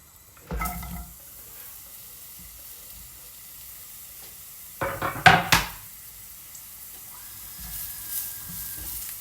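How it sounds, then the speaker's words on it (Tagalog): Bitter gourd (ampalaya) is sautéed in a pan, giving short bursts of sizzling and stirring clatter near the start and middle, close and moderately loud, with quiet frying in between. "So, magigisa na tayo"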